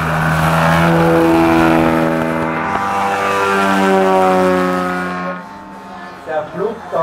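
A loud propeller airplane drones past at an air show, its engine pitch shifting as it passes before fading away, with brief voices near the end.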